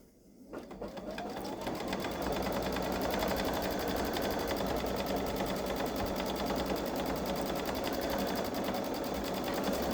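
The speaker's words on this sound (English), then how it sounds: "So we'll stitch out this frame." Babylock Solaris embroidery machine stitching an edge-to-edge quilting star design, starting up and then running with a steady, rapid mechanical rattle, loud and close throughout.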